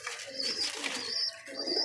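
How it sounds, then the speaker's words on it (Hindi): Domestic hobby pigeons coo softly in a short, close burst of throaty rolling calls, repeated twice with no talk over them. "ये मेरे कबूतर, ये देखें जी कबूतर है ये।"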